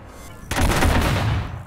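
Gunfire from a weapon in the multiplayer shooter Killzone on PS4, a sudden loud burst after a quiet moment, sustained dense firing for about a second before cutting off.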